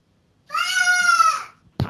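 A house cat lets out one clear, drawn-out meow close by, rising slightly and then trailing off, followed by a brief thump.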